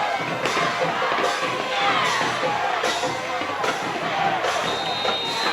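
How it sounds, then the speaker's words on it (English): Crowds at a high school football game roar and cheer in a dense, continuous wash of voices, with a few sharp thumps and shouts standing out over the steady noise. "Both crowds getting fired up now."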